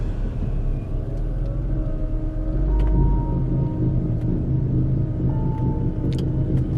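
Inside a moving Chevrolet Equinox, a steady low road rumble carries a faint droning hum from the vehicle while driving, continuous and fairly loud with no voices.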